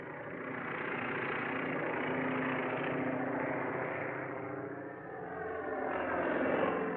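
A propeller airplane drones steadily overhead in a 1950 war comedy film, a continuous engine hum that swells and fades slightly as it passes, fairly loud and alone.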